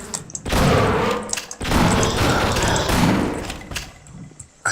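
Gunfire in the Half-Life video game: several loud, booming shots in quick succession with heavy reverberant tails, separated by brief gaps.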